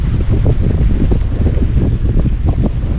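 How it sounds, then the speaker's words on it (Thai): Strong wind blasting across a microphone in a rural Thai village, a loud continuous roar with rumbling gusts and no voices. "ยินเสียงลมมาจ้า ลมดีขนาด"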